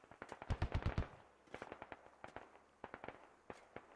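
A .50 cal machine gun on an MRAP fires in the Squad video game: a quick, dense burst of rapid shots, then scattered short volleys and single cracks that sound moderately distant and fairly quiet.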